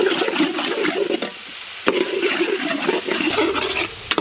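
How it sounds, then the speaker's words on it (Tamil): Onion and tomato sizzle and fry in a pan, a loud, close hiss broken by stirring scrapes, with no talking. "வெங்காயம் வந்து நல்லா பொன்னுரலாக வந்ததுக்கப்புறம் தக்காளி சேர்த்துக்க வேண்டியதான்."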